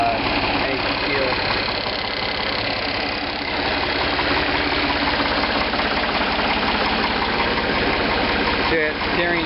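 A Ford 3600 40 hp tractor engine idles steadily and close, a continuous mid-pitched rumble with a faint knock that holds level throughout, with talk running over it.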